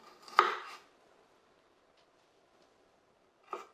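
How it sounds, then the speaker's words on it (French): A knife roughly chopping an onion: one firm chop near the start with a short scrape after it, then quiet, and a second chop at the end, close and clear with no talk. "On commence par couper l'oignon en morceaux grossiers."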